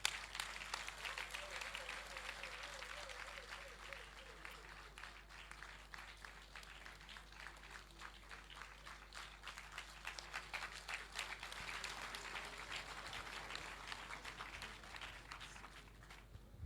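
A large crowd applauds steadily for General Bertin Bada at a closing ceremony of an international colloquium. The clapping is dense and sustained, distant and faint, with a faint hum and a brief tone underneath.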